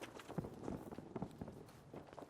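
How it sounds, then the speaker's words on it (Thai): Footsteps to the left of the player in the shooter Battlefield V, a run of soft, fairly quick steps at moderate distance over low game ambience. "ทางซ้ายมีเสียงฝีเท้าด้วยคุณผู้ชมฮะ"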